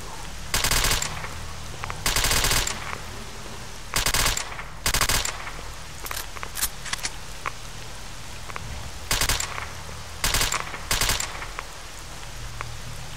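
Gunfire in the video game STALKER, with about ten sharp shots and short bursts spaced unevenly over a soft rain-like background hiss.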